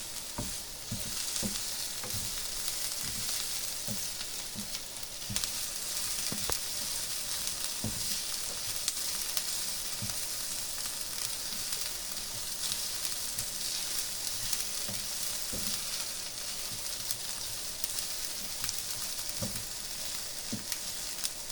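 Chilies and onion fry in a pan for Goan-style croquettes, a steady loud sizzle with frequent clicks and pops from stirring throughout, no talking.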